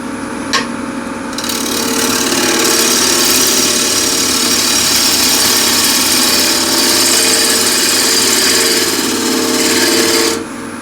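A wood lathe spins a bowl blank while a gouge trues it up, a loud steady whirring roar with rough cutting texture that runs continuously for about nine seconds before stopping.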